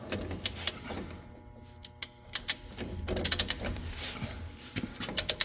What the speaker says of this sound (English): we're gonna put our outer nut on. Just tighten this one up.